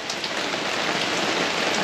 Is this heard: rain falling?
yes